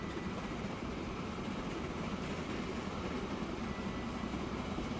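A steam train in the game Transport Fever runs along its tracks with a steady, continuous rumbling roll that holds at a constant level throughout, with no voices.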